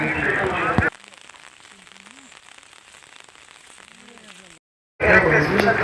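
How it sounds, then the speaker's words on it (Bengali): Gentle rain falls in a soft, even patter of fine crackling drops, heard faintly for several seconds between louder stretches of talk at the start and end. "এই যে বৃষ্টির ঝিরি ঝিরি শব্দটা হচ্ছে"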